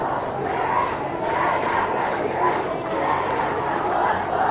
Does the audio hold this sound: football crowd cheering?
yes